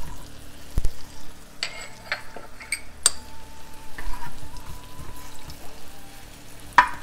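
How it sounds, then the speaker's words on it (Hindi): Onions fry in a small amount of oil in a pan, giving a faint, sparse sizzle broken by scattered clinks and scrapes of a utensil against the metal, close by and with no one talking. "और इसको आप फ्राई कर लें।"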